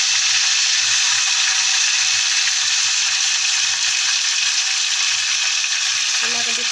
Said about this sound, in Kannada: ಚಲೋ ಹೊತ್ತಂಗೆ ಬ್ರೌನ್ ಕಲರ್ ಆಗೋ ಮಟ್ಟ ಫ್ರೈ ಮಾಡಬೇಕು.